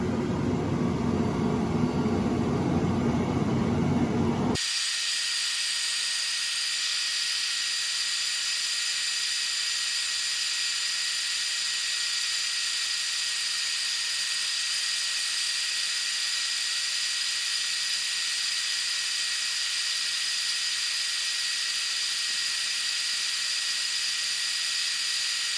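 Glowforge laser cutter running as it cuts out a part, a steady broadband hiss and whir from fans and exhaust that holds constant for over twenty seconds after a louder, lower rumble at the start.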